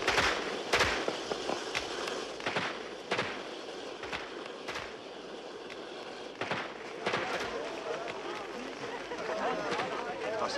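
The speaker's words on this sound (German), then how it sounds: "Knallfrösche?" Firecrackers go off in a rapid, irregular string of sharp cracks and pops, loud and close, mixed with shouting voices and crowd commotion.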